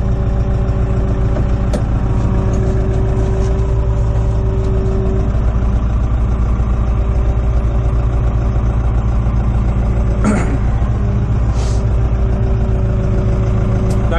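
A vintage tractor engine, a TAG 60 or TAGRO 102 on a farm, idles steadily after a morning start, with a loud, constant low rumble and a couple of brief sharper knocks throughout.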